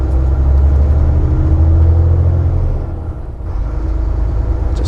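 A heavy truck accelerating at full throttle makes a loud, deep engine drone that dips briefly as it shifts gear partway through, then pulls strongly again.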